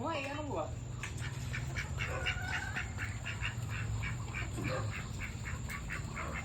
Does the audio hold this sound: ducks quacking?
yes